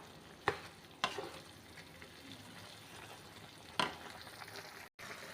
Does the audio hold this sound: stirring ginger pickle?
yes